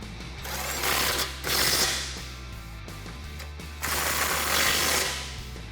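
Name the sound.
ratchet with 16mm socket tightening bumper bolts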